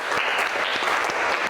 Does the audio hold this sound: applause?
yes